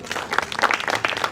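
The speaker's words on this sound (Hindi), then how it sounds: "एक बार जोरदार तालियों स्वागत करें।" Enthusiastic clapping from a crowd at a Hindi poetry gathering (kavi sammelan), a brief, close burst of hearty applause with uneven peaks.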